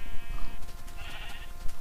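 A sheep bleats in the Minecraft video game, a couple of short wavering calls close up over faint background game sounds, without any talking.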